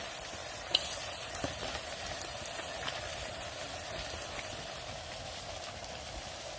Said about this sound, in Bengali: পেঁয়াজ ফালে দেওয়া হচ্ছে এখন